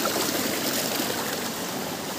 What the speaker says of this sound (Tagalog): kumukulo ang mga tubig dito.